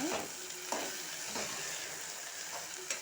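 Sliced okra, tossed with turmeric, fries in oil in a pan with a constant close sizzle. Soft stirring scrapes recur about once a second, and no voices are heard.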